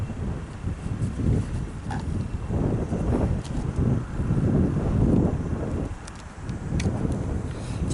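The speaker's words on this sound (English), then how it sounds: "It's kind of windy today," Strong wind blasting across an outdoor microphone, roaring low gusts that rise and fall steadily without letup, with no talk.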